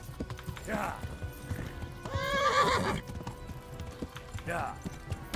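A tired horse gallops in the medieval video game Kingdom Come: Deliverance, with a steady rhythmic clip-clop of hooves broken by a loud, close whinny in the middle and snorting at either end.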